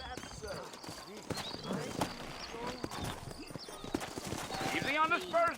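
Horse hooves clip-clop in the video game Red Dead Redemption 2, set in New Austin, a steady rhythmic plodding at close range with an occasional snort, heard under someone talking and wavering background music.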